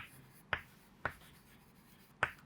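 Hand writing on paper while working resistor problems for a physics lesson: a few sharp, isolated pen strokes, close and distinct, spaced about half a second to a second apart against quiet room tone.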